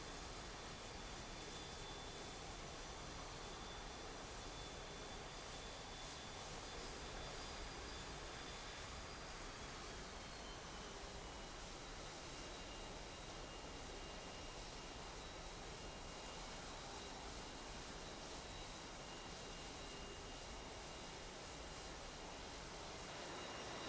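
A JAS 39C fighter jet taxiing in a flight simulator gives a steady, very faint broadband engine hiss and whine that holds unchanged for the whole stretch, with no other sounds standing out.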